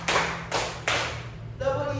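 A group of people clap their hands together in time, three broad, bursting rounds of applause-like claps, followed by a brief voice speaking.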